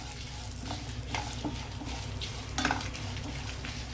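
Dried red chilies and garlic fry gently in oil in a pan, a steady soft sizzle with occasional stirring scrapes and light clinks, no voices.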